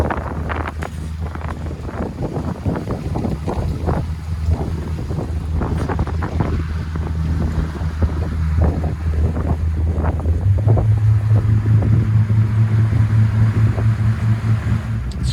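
A Bayliner 255 with a Mercruiser 5.0L MPI 260HP Bravo 3 engine cruises on open water, its steady low engine drone rising in pitch midway, with constant wind buffeting the microphone and water rushing past.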